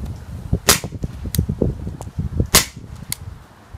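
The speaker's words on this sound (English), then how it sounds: "It's the very first shot of the double action" An airsoft Beretta M92A1 pistol fires a double-action shot at a target, giving a sharp, snappy crack. A second similar report follows about two seconds later, both close and loud over low rustling handling noise.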